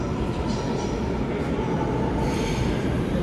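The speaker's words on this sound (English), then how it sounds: "And then, eto na yung train natin." A Seoul subway train arrives, rumbling steadily with a broad, continuous roar and faint metallic squealing from the wheels, close by and loud, with no speech.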